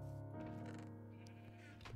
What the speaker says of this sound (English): Here's the sheep farm we made for him.